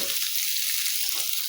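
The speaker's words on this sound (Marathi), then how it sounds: "कांदा परतून घेऊया." Onion frying in a pan for a Maharashtrian dried bombil dish, giving a steady hissing sizzle with a faint scrape of stirring, close and unbroken.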